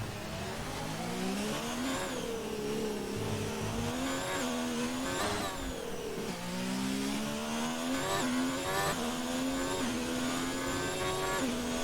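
A race car in a Monaco GP racing video game revs hard and holds high revs, its engine whine rising and falling through gear shifts continuously for the whole stretch, loud with no voices.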